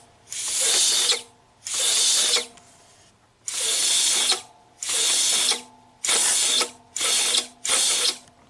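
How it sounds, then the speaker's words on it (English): Compressed air blown into the turbo actuator of a Volvo XC90 to move its rod, heard as seven close, loud, sharp hissing blasts separated by short pauses, with faint mechanical clicks between them. "So I'm going to put a little compressed air in there and see"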